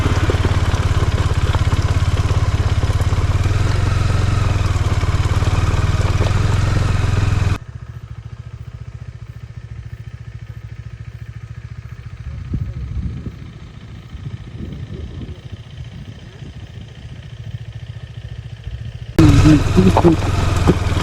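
A motorcycle engine roars loudly and close, then drops to a quieter hum with faint voices before surging back at full volume.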